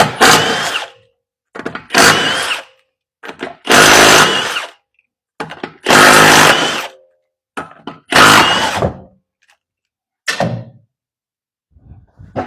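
A power tool works on a 2020 Subaru Ascent strut mount during suspension repair, firing six or seven loud, short bursts separated by brief silences, close up and with no talking.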